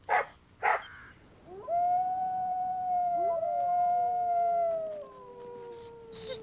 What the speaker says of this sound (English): The howls and yelps of wild dogs can be heard for several miles.